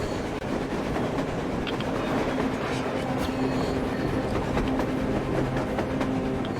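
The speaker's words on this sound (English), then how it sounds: "A train! A damn train on the surface!" A train rumbles past in the video game Metro Exodus, a dense continuous roar with rattling and clatter filling the whole stretch, loud and steady without a break.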